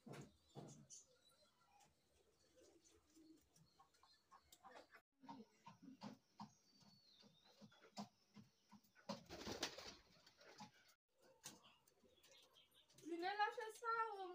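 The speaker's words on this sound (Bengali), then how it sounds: "দেখেন ডাকতেছে, এটা কিন্তু মায়া, লেজ টানি টানি ডাকে" Pigeons coo in soft, repeated throaty calls with a female pigeon cooing near the end, while someone talks throughout at a quiet level.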